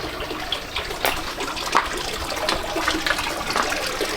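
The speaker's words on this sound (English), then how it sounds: "over here is a little ambient fountain" A small ambient outdoor water fountain at a Napa Valley wine country inn runs with a continuous close splashing and trickling, steady and moderately loud, with no voices.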